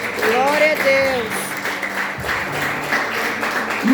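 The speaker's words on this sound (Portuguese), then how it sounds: "Dê um aplauso ao Senhor." A church congregation applauds at a service, a steady wash of clapping heard together with voices speaking over it.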